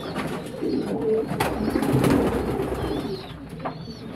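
Domestic pigeons cooing in a loft, several soft rolling coos overlapping at close range against a busy low background with faint bird calls.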